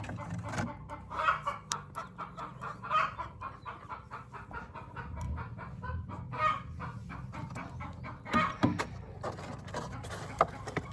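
Hen clucking repeatedly in a coop where eggs are being collected, a steady run of short clucks with a few louder bursts, fairly close, no talk.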